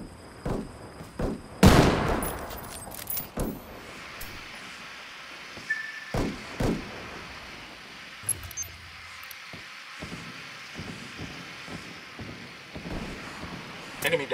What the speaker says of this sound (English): Heads up. Under heavy fire!